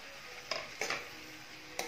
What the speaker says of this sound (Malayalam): നന്നായി ചോറുടഞ്ഞു പോവാതെ മെല്ലെ യോജിപ്പിച്ചു കൊടുക്കുക